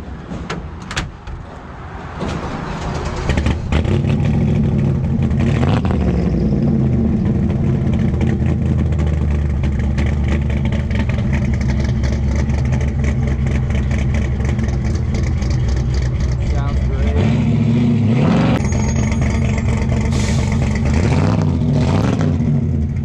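A 1940 Cadillac LaSalle engine cranks and fires, then runs loud and steady with repeated revs, heard up close with no talking.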